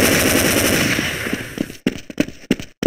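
Rapid automatic gunfire in Counter-Strike 1.6, a dense sustained burst for almost two seconds, then a handful of separate sharp shots with short gaps between them.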